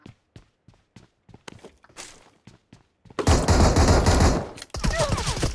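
PUBG Mobile gunfire, first a string of sharp single shots spaced apart, then a loud sustained burst of rapid automatic fire, a brief pause and a further volley, all close and harsh.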